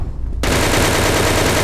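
Gunfire in the online shooter CrossFire (CF China) in King Mode: after a brief quieter lead-in, an abrupt, loud, sustained spray of rapid automatic shots, close and continuous to the end.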